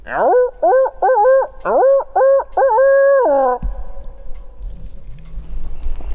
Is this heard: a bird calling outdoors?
yes